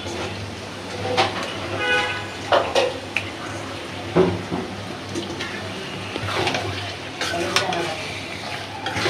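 Beef liver hits a pan of spiced, cooked-down masala, giving a steady sizzle with scattered clinks and scrapes of a spoon against the pan, close and fairly loud, without talk.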